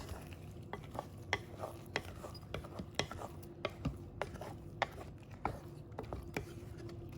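Glutinous rice simmering in a pot is stirred with a utensil, giving a run of soft scraping strokes and light knocks over a low bubbling background, close and fairly quiet.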